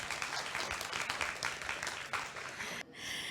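An audience at an Indonesian community event on women's empowerment claps steadily for several seconds, a full even applause that breaks off sharply near the end.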